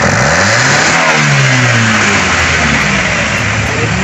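Toyota Corolla small-body 2E engine fitted with a Mosashi 3K carburetor revving up toward 3,000–4,000 RPM, a loud close steady mechanical roar with rising and falling engine pitch and no talking.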